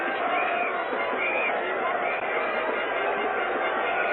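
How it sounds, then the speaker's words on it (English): A large cricket crowd at Lord's streams onto the pitch after the 1975 World Cup final between West Indies and Australia, a steady, loud roar of massed voices and cheering that fills the whole stretch without a break. "the crowd gathering in there now, mobbing over the pitch"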